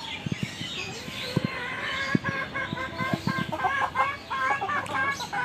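Native free-range chickens cluck close by in a run of short, irregular calls that grow busier and overlap toward the end.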